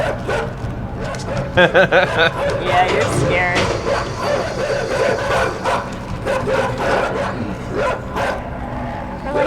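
Small dogs bark and yip in short bursts at close range, with someone talking over them in a busy indoor space.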